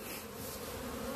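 Honeybees buzzing at a beehive during a spring hive inspection, a dense continuous drone of many bees close by, steady and alone.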